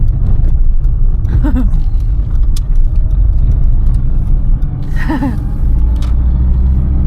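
An Austin Metro drives along a road late at night, its engine giving a steady, loud low rumble throughout with faint background noises over the top.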